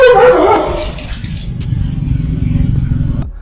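A dog barks as it approaches a man outdoors, a loud burst of barking at the start that fades into low rumbling background noise.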